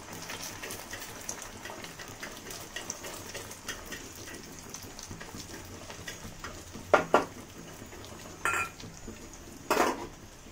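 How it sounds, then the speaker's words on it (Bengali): An egg is beaten well in a bowl with a utensil, giving a steady fast clatter against the sides and a few louder knocks toward the end over a faint background hiss. "ডিমটাকে ভালো করে এটা ফেটে নেব"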